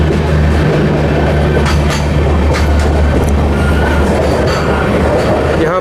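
An Amrit Bharat Express train on the Brahmapur to Udhna route arrives at speed on the main line at Durg, a loud, close, continuous roar of rolling wheels with rhythmic clatter and a steady low drone.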